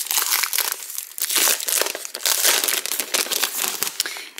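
Packaging crinkles and crackles loudly up close as gift boxes are opened, in continuous bursts of crumpling and tearing with short pauses.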